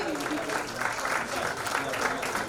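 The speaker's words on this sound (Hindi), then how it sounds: "जोरदार तालियों के साथ इन्हें बधाई दीजिए" An audience at an award ceremony for nursing and paramedical institutes breaks into vigorous clapping, a continuous, full round of applause with a faint murmur underneath.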